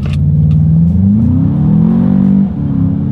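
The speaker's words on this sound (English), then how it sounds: "Let's do a quick little acceleration test with the car having full control." A 2021 Volkswagen Jetta GLI accelerates hard in sport mode, its engine note climbing steadily in pitch through the gears, loud and close from inside the car, before easing off abruptly near the end.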